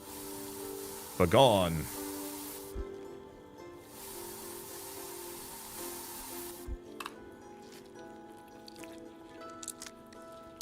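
Two bursts of hissing spray from a spray tool in the post-apocalyptic video game I Am Future, the first overlapped by a short spoken word, then a quieter stretch with light game effects and faint clicks.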